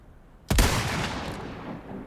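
A single sharp gunshot in Resident Evil 4 Remake cracks out loud, then a long echoing tail fades slowly.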